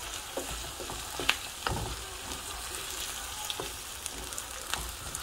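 Onions and bean sauce sizzle in a pan, a steady frying hiss broken by intermittent scraping clicks of a spoon stirring, close and clear with no talking.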